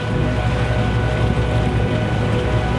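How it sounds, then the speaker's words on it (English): A boat's engine drones steadily and loudly from close by, a dense low rumble mixed with water wash in gale-force wind, continuous with no voices. "They probably couldn't hear it over the engine."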